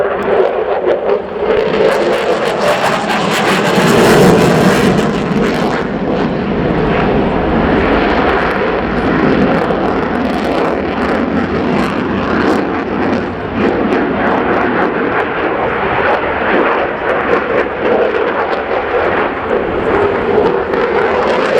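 A Belgian Air Component F-16A jet performs a display at the RIAT 2016 airshow, producing a loud, sustained jet roar that surges to a peak early on and then holds at a steady, powerful level.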